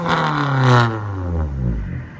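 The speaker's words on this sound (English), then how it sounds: "exhaust note of a Toyota Solara." A second-generation Toyota Solara's exhaust note up close, the engine revving up and dropping back in smooth, rising and falling sweeps with a deep, droning tone.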